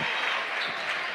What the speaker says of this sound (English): She gets a well-deserved applaud there.